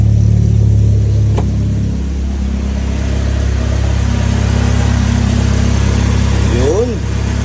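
A Toyota Vios XLE engine runs steadily throughout, a low continuous rumble with a brief shift in pitch near the end, heard from close by, with the air conditioning on.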